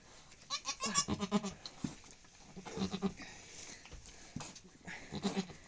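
Several goats bleat in short wavering cries, close by, just after a goat gives birth, with brief pauses between calls and some rustling in the background.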